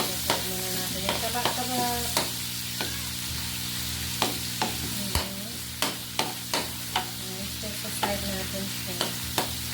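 Garlic sizzling in a pan for potato adobo, steady frying hiss with repeated sharp utensil scrapes and taps as it is stirred, close; a voice speaks briefly over it.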